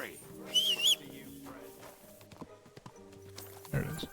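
Horse hooves clip-clop at a walk in Kingdom Come: Deliverance II, soft and fairly near, with bird chirps and background music.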